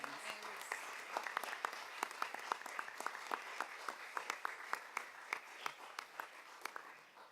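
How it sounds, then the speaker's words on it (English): Applause for district faculty and staff at a board of education meeting, a small group clapping at moderate distance with distinct individual claps, fairly quiet in the room. "I think you deserve a round of applause"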